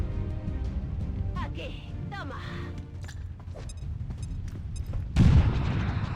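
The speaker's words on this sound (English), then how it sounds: "Maybe let's detonate this. Try and blow up this thing." An object is detonated in XCOM 2, with a sudden loud blast near the end following scattered gunfire-like cracks, and people talk over the game sound throughout.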